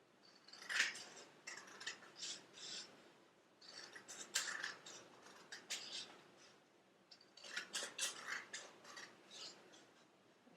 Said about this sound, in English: So then we're going to take our scissors